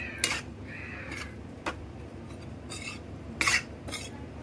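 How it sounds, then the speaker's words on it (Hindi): Gram flour roasting in ghee for besan ladoo, stirred in a pan with a spoon that gives soft scraping rubs and a few sharp metallic clinks, close up with no talk. "तो बेसन को भूनने की कला है, भूनते रहिए आप।"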